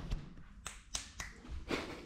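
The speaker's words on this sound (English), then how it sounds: "you ever snap your fingers at me again?" Sharp finger snaps, about five or six crisp clicks at uneven intervals, close and fairly quiet with no talking.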